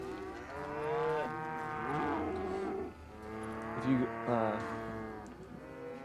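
Cattle lowing in the Call of Juarez Gunslinger video game, several long, deep, close moos following one another with short pauses, while a voice comments faintly in the background.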